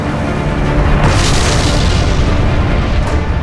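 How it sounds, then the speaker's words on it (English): Volcanic vents erupting on Io, Jupiter's volcanically active moon, rendered as a loud, continuous deep roaring rumble that swells into a brighter burst after the first second and keeps churning steadily to the end. "Hundreds of volcanic vents blister its surface."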